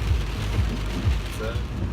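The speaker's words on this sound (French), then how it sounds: "regarde, il pleut fort. Tempête." Rain pours hard and steadily during a storm near Montreal, with a loud, close hiss and low rumble, and a voice murmurs faintly underneath.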